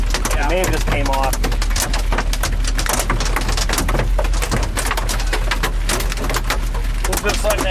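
Hail pounds a storm-chasing vehicle during a Texas tornado chase, a dense, loud, continuous clatter of sharp impacts with voices talking underneath.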